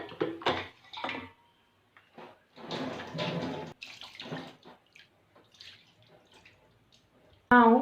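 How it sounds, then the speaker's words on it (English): Water poured from a jug splashes over hands being washed in short bursts, with irregular pours and drips, plus a brief sharp clatter at the end. "now with this clean hand catch here and wash another hand and clean the handle too"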